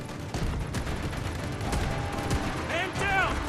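Assault rifle gunfire from a K437 in the mobile shooter Delta Force Mobile, dense bursts of shots and battlefield clatter throughout, with a voice calling out over the fighting.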